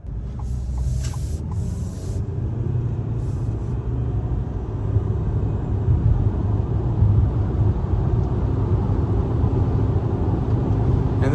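A 2026 Ford Maverick Lariat Hybrid AWD pickup accelerating hard from a stop, a steady low engine and road rumble heard from inside the cab that builds slightly as speed rises.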